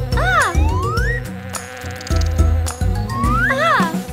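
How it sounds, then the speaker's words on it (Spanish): A bee's buzzing drones through a cheerful children's song, rising and falling in pitch around steady musical notes. "ya soy una abeja. Bzz, bzz"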